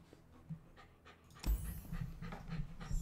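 A dog pants in quick rhythmic breaths close to the microphone, faint at first and then louder and more vigorous after a thump, continuing steadily.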